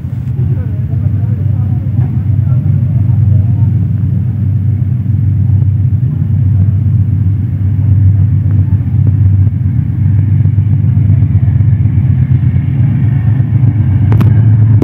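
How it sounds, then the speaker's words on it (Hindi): A freight train passes close by, its heavy low rumble steady and loud throughout, with faint bits of other noise over the drone. "मालगाड़ी काफ़ी करीब आ चुकी है"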